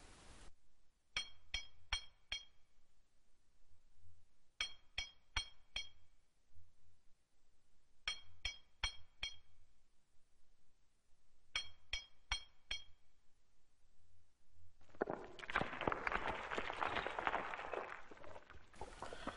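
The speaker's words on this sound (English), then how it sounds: "You heard my pickaxe hammering, and then when the ores got destroyed," Pickaxe strikes in a video game skills taster, mining ores: sharp metallic clinks in quick bursts of four or five, repeated several times with pauses, then a loud crumbling, crackling rush as an ore breaks apart near the end.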